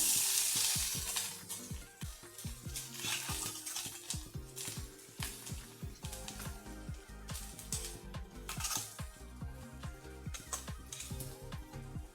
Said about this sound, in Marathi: आता हे तेल आहे आत मी कढईत टाकलं